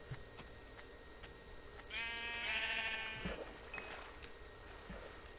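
Sheep bleating in the Minecraft video game, a single drawn-out, wavering bleat rising in the middle of a steady game background, fairly close and clear with no talk over it.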